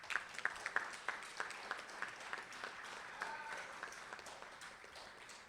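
Audience at a national consultation on the economy gives a round of applause, a faint, even patter of many hands with a few sharper claps standing out near the start.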